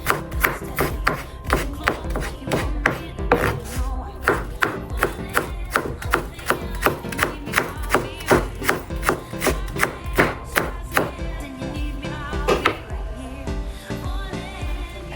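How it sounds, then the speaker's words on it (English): A knife chops onion into very small pieces on a board, a steady run of sharp, close taps repeating quickly for the whole stretch, with a short pause near the end before the cutting resumes. "I'm gonna cut some onion in very small pieces"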